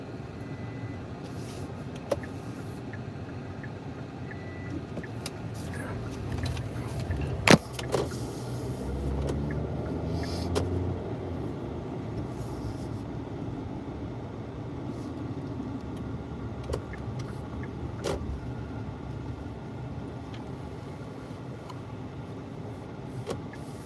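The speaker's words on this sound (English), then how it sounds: "A lot of traffic." Road traffic in Tucson heard from inside a moving car, a low steady rumble of engines and tires with occasional clicks and bumps, fairly quiet throughout.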